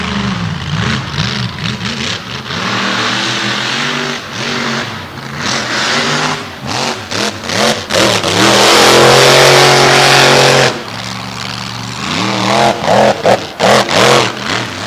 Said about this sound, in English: Buddy is just beating what's left of this transmission to death right now.